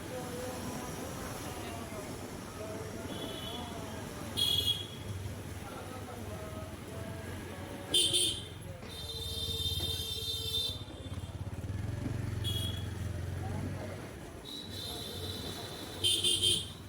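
A motorcycle carries riders along a road, its engine rumbling steadily throughout while several short horn honks from surrounding traffic sound at intervals, some close and loud.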